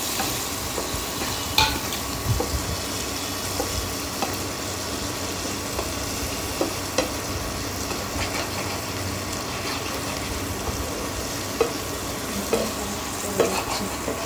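Shrimp being fried with taro greens in a pan, making a steady sizzle with occasional spatula scrapes and taps, close and moderately loud, with no talking.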